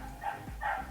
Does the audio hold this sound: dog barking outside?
yes